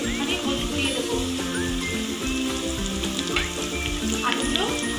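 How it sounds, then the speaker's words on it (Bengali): Cut potatoes fry in hot mustard oil with turmeric in a pan, giving a steady, close, dense sizzle and crackle throughout, with faint kitchen clatter underneath. "আলুগুলো ভাজা ভাজা হবে"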